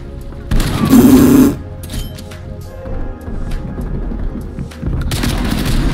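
Shotgun fire in a first-person shooter video game, a loud booming blast near the start with a short rumbling tail, followed by quieter in-game clatter and another rising burst of noise toward the end.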